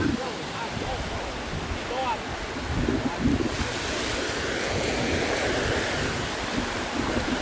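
Ocean waves wash steadily onto a beach, with loud surf and wind noise buffeting the microphone throughout.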